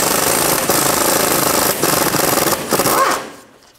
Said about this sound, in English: Take these two nuts off right here. Use a 13 millimeter socket.